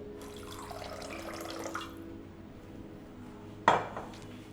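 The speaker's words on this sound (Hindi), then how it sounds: "थोड़ा सा पानी डालिए।" A little water poured into panchamrit, the sweet milk offering, in a kitchen: a soft, steady trickle close by, ending with a sharp clink of a utensil against a vessel.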